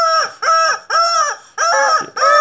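Repeated clucking and crowing calls from a Gıt Gıt Gıdak chicken toy game, five loud electronic bursts in a steady rhythm separated by short gaps, close and clear with no talk.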